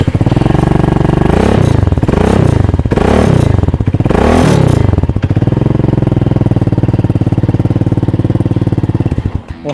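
A Scomadi retro scooter from England, with its factory racing-style exhaust, revs up three times in rising and falling surges, then settles into a steady, loud, close idle.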